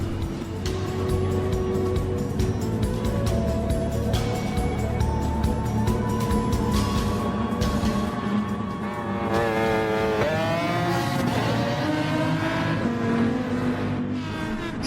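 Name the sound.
race cars starting a race in Gran Turismo Sport video game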